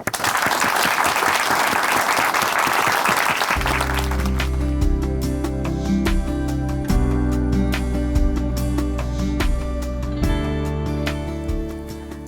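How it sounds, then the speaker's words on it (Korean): An audience at a church television program claps loudly to welcome a church member to the stage. The applause lasts about three seconds, then music takes over. "박수로 오시겠습니다."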